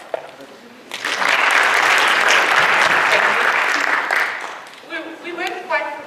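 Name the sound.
audience applause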